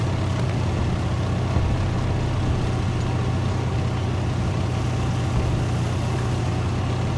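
A Japanese I-Go Ko tank engine idles smoothly, a steady low rumble that runs evenly and loudly throughout with no talk over it.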